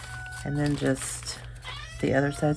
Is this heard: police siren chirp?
no